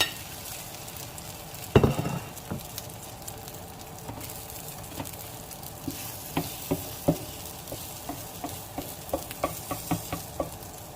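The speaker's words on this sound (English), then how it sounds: "And we're gonna fry that one." Food frying in a pan: a sharp clatter of utensil against metal opens, then a steady crackling sizzle with frequent light taps and scrapes, heard up close and without speech.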